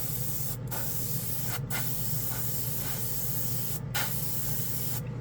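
A Testors airbrush spraying thinned paint at around 30 psi, a steady close hiss broken by four brief cutoffs as the trigger releases, no speech.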